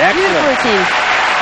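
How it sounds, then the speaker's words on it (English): Steady wash of applause from teammates and a capacity crowd in the Hans Martin Schleyer Halle after a women's gymnastics routine at the 1989 World Championships, loud and sustained beneath a commentator's voice. "To the applause of her teammates and a capacity audience here at the Hans Martin Schleyer Halle."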